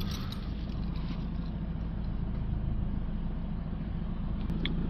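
A Mercedes C220 diesel car with a clogged diesel particulate filter runs at idle after starting, giving a steady close mechanical drone with a faint rattle and no voices.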